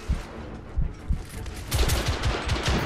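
Gunfire in the video game The Order 1886, with scattered shots early and then a loud burst of rapid, heavy blasts in quick succession, close and punchy.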